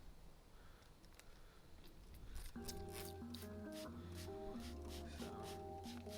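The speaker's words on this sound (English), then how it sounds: "So it says to spray it into this microfiber like so." A spray bottle of detailer is pumped into a microfiber cloth in a quick series of short, crisp hisses over background music, following a quieter stretch of faint rustling.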